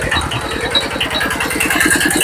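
A diesel engine in good condition runs at a steady idle, a loud, even chugging pulse throughout with no voices over it.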